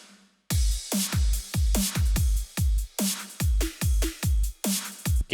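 Electronic drum pattern in a dance-track drop, punchy kicks with snappy hits in a steady four-beat groove, bright hi-hats and a shimmering ride cymbal layered on top, loud and alone with no voices.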